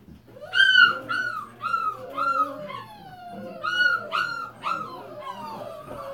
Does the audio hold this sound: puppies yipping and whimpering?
yes